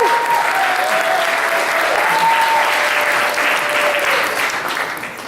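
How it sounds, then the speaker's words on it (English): A room full of people at an Eagle Scout court of honor claps in a sustained, loud round of applause lasting several seconds, with a faint whistle or cheer above it, fading slightly at the end. "Let's give them one more round of applause."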